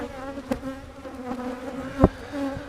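Honey bees swarm around an open hive with honey supers during a nectar flow, a dense close droning buzz with shifting pitch as individual bees pass near, plus a couple of sharp knocks.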